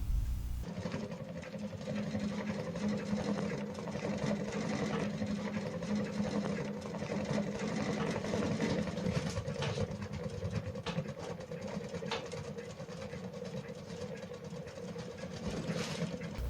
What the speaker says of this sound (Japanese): 空気を吸い込む時のパタパタパタっていう音がテンポが少し遅くなった